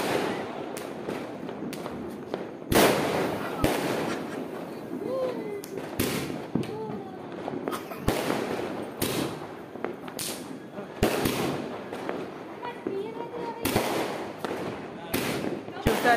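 Firecrackers and a non-stop 150-shot fireworks display burst for Diwali, with sharp, loud bangs at irregular intervals, some in quick clusters, over a steady crackling background and faint voices.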